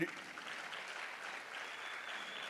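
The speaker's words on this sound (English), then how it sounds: "let's give the Department of Sports, Arts and Culture a big round of applause for that" An audience applauds steadily at an event honouring the Department of Sports, Arts and Culture, a dense, even wash of clapping lasting throughout at moderate, somewhat distant volume.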